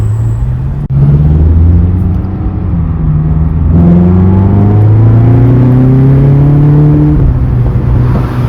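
A Ferrari California's front-mounted engine pulls loudly and steadily while driving, rising in pitch through the gears with one brief shift partway through and a continuous, close engine drone throughout.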